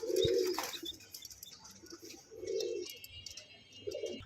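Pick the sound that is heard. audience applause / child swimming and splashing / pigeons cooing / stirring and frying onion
pigeons cooing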